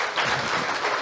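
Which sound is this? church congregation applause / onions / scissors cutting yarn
church congregation applause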